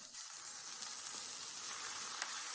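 Cabbage warming in an oiled pan gives a steady, soft sizzle with faint crackles, constant and fairly quiet throughout.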